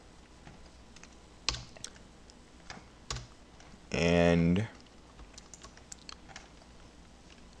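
A computer keyboard is tapped with a few sparse, close keystrokes scattered across the stretch, with a brief tonal burst in the middle and a single spoken word.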